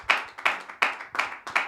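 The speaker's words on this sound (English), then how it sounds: "clap for her" About five separate, evenly spaced claps, sharp and close, marking a slow beat as an audience claps together during a talk on dealing with anger, with no speech over them.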